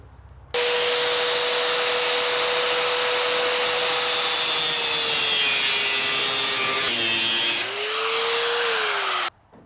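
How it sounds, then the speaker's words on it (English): A cutoff saw slices through a flexible car front bumper on a GTO restomod, a loud continuous high-pitched whine with grinding texture that dips briefly near the end before stopping. "I'm just going to use the cutoff saw. We'll whack this in two"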